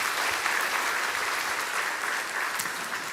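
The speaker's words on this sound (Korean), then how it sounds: "박수 쳐주세요." A church congregation applauds during a Sunday service, dense steady clapping filling the room for a few seconds with a faint voice briefly underneath.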